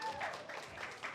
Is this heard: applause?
yes